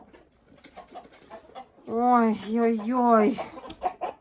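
A rooster gives a loud, drawn-out harmonic call near the middle, close by, with a voice exclaiming briefly just before it and chatter around it.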